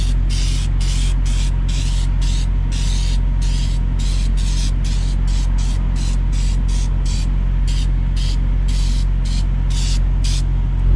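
Quick, repeated hissing bursts from a lubricant spray can aimed at worn metal parts, dozens of short puffs in a steady rhythm over a constant low engine-like rumble.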